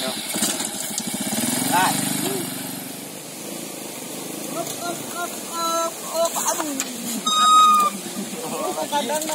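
A motorcycle engine starts and runs at an idle, a close rough putter under loud, casual conversation in a rural village setting.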